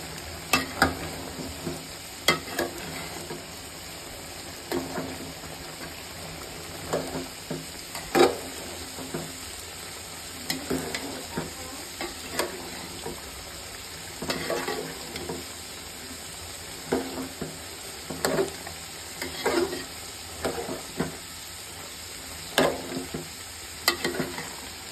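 Bottle gourd peel fries in a pan with a continuous crackling sizzle, punctuated by regular sharp scraping and stirring strokes of a utensil against the pan. No one speaks.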